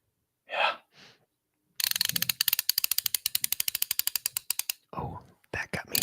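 A ratchet screwdriver clicks in a fast, loud, close run of sharp ratcheting ticks lasting about three seconds, with breathy vocal sounds just before and after.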